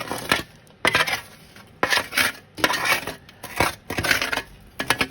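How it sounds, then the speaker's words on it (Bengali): Roasted garlic, onions and dried and green chillies are mashed together by hand for a dried fish vorta, giving repeated crushing and clinking bursts against a dish in a steady, close rhythm. "মিশিয়ে নিচ্ছি বাকিগুলো মিশিয়ে নিচ্ছি"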